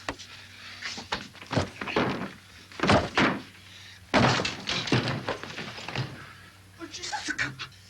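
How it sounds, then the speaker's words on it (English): A door is broken down with heavy thuds and cracking impacts, loud and close, amid tense voices talking and calling out. "Do you want me to break the door down?"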